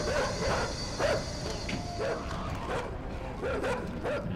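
Dogs bark repeatedly in the side-scrolling video game Inside, a series of yipping, rhythmic barks at a steady pace over a dense, noisy ambient backdrop with no talk.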